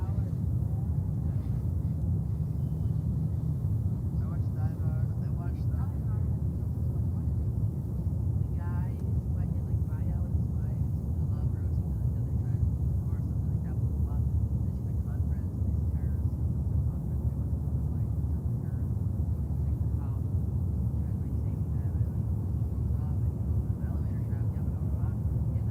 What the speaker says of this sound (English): next departure is Egypt Air 777-300 back to Cairo